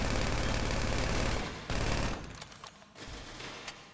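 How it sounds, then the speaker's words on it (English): A micro SMG fires in a GTA V gun range, a loud rapid automatic burst of shots followed by a short pause and a few scattered rounds. "I'm gonna go for challenge number one with the micro SMG"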